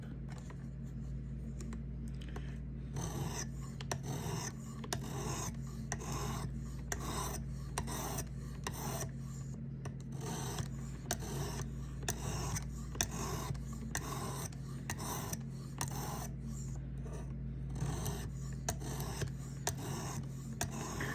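Sandpaper rubs repeatedly against the steel blade of a Ferrum Forge Massdrop Buc knife, producing close, steady back-and-forth rasping strokes over a constant low hum, with no talking.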